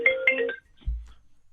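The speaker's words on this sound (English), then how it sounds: "there goes the phone" A telephone rings in a live radio studio with a short electronic double trill, followed by a brief low thump and then quiet.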